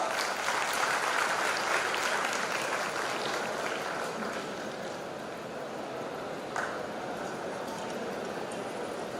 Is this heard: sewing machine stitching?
no